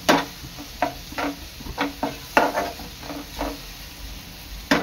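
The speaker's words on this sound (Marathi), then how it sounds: "आणखी 1-2 मिनिटं आपण कांदा शिजवून घेणार आहोत।" Onion browning in a pan for Konkani-style gaboli (ulshi flower) bhaji, with a steady sizzle broken by repeated scraping stir strokes at a close, moderate level.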